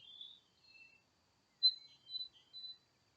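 Birds chirp outdoors in faint, brief high-pitched calls, a few scattered tweets with gaps of near silence between them.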